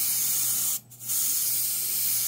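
An airbrush sprays paint at around 20 pounds of pressure, a steady close broadband hiss that briefly cuts out and then resumes, with no talk.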